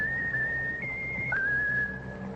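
A bird whistles a sustained tune with a few pitch steps, a clear bright whistle over low background hum on an old radio comedy program.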